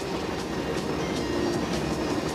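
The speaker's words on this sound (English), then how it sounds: "Here's a French freight train carrying concrete beams." A French freight train hauling concrete beams rolls steadily past close by, with a continuous rumbling roar and a regular clickety-clack of wheels over rail joints.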